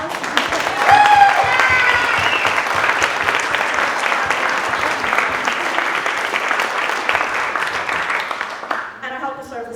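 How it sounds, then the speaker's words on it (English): A crowd at a post-election gathering of elected officials applauding in a long, dense, sustained round of clapping with scattered cheers, steady and close throughout, tapering slightly at the very end as a voice begins. "if we could do an extra big round of applause"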